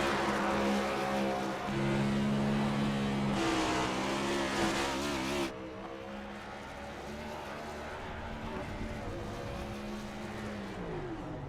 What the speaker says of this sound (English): Burnouts that are well deserved.